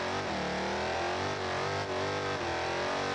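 Simulated engine of a damaged Chevy C10 truck with an 8-speed automatic in BeamNG Drive, a steady, dense, loud drone holding at high speed without a break.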